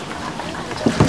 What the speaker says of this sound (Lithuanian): Tik išlipkit į vandenį ir padokit valtį.